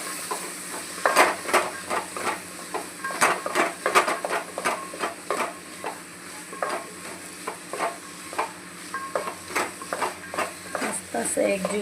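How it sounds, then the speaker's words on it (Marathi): A spoon scrapes and stirs mixed vegetables into masala veg pulao in a cooking pot, giving repeated irregular clinks and scrapes over a faint sizzle, with someone talking now and then. "याला चांगलं आपण मिक्स करूया."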